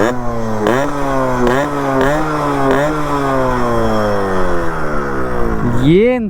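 A Yamaha RXZ two-stroke motorcycle engine starts and revs loudly up close, its buzzing pitch climbing in repeated throttle blips over a steady idle, with a sharp final rev at the end.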